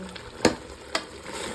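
A spicy green chili dish being roasted and mashed in a pan, with a low steady sizzle broken by two sharp scraping knocks close by, no talk.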